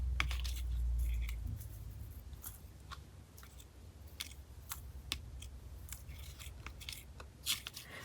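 Scissors cut paper for a winter journal: a close run of crisp, repeated snips and small rustles, with no talking.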